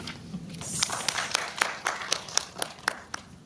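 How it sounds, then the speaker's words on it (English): A small audience at a copyright and media stakeholder conference in Uganda claps, with sparse, uneven individual hand claps standing out over faint room noise. "Please clap for yourselves."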